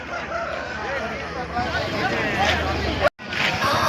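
A Bhimavaram-class rooster crows at a busy Sunday poultry market in Pileru, a drawn-out call rising over crowd babble and someone talking nearby.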